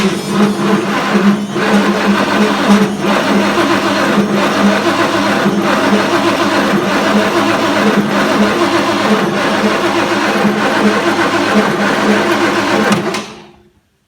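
A Ford 460 V8 cranks over on its starter with a loud, steady churning whir that holds for about thirteen seconds, then cuts off abruptly.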